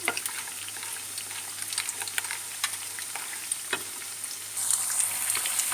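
Tofu and soya nugget pakodas in thick flour batter frying in hot oil, giving a continuous close sizzle with small pops and light stirring taps that briefly swell louder near the end.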